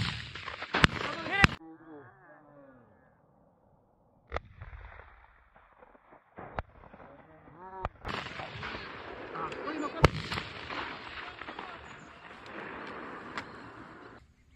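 Rifle shots during a turtle dove hunt near Parral, Chile, sound as several sharp, loud cracks spread irregularly through the stretch, with people talking between and around them outdoors.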